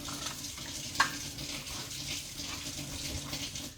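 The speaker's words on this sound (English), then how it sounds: "it's just cold water out of the sink" Cold water running from a kitchen sink tap, a steady close hiss and splash with one brief clink near the start.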